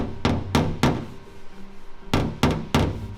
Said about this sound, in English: So I'll hurry and do a little bit of hammer work.